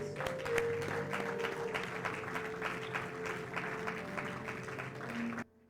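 A church congregation applauds throughout a French-language service, a dense, steady wash of clapping at moderate distance that cuts off abruptly at the end.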